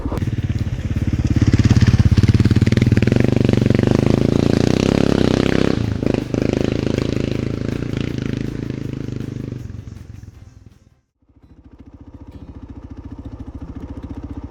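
A 2010 Kawasaki KLR650 single-cylinder motorcycle roars loudly past at the end of a track, engine note swelling close by, dropping away, then a steady droning engine resumes.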